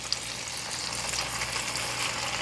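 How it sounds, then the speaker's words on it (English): Chicken breasts sizzle steadily in a hot pan of oil and butter, a close, continuous crackling fry with small pops. "Can you hear the sizzle?"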